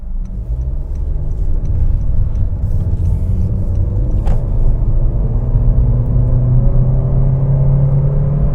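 2019 Honda HR-V under partial acceleration on the road, a loud, steady low cabin rumble of engine and tires with a gently rising drone and no talk over it.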